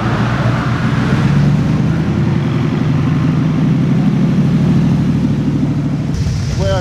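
Car engines rumble and idle at a kit car show featuring Cobra replicas, a dense, loud, continuous drone of motors and traffic. A brief change near the end brings a rising tonal sweep.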